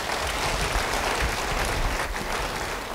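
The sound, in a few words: congregation applause in church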